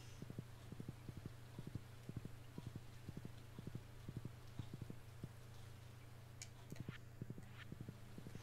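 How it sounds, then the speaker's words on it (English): A horse summoned by a flute in a video game trots in with steady rhythmic hoof clip-clops, soft and continuous across the whole stretch over a low hum, without talk. "when I call my horse"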